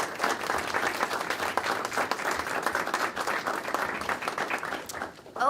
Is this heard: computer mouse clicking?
no